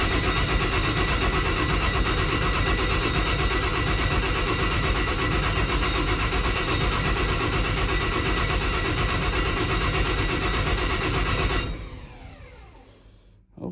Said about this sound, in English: We're also gonna crank this with the fuel pump priming